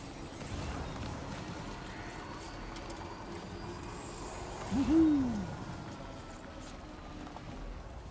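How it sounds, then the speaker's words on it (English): A single low owl hoot sounds once in a Death Stranding game scene, moderately loud over a steady quiet ambient background. "you heard an owl on the stream"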